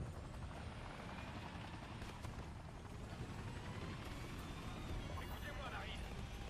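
A helicopter in the video game Call of Duty 4 Modern Warfare Remastered makes a loud, steady rotor and engine roar that fills the whole stretch without letting up.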